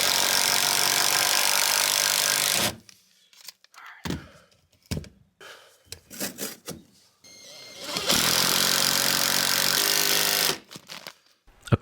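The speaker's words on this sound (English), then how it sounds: "A cordless impact driver really helps drive these beefy screws" A cordless impact driver drives heavy screws into framing in an attic while a ceiling fan box is installed. It hammers loudly and close in two long rattling bursts, with thumps and handling noise in between.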